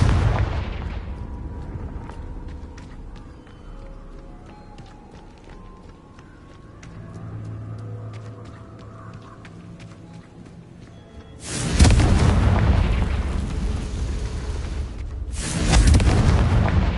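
Explosive Confringo spell blasts in Hogwarts Legacy, two loud broadband bursts landing late after a stretch of quieter game ambience with light clicks and rumble.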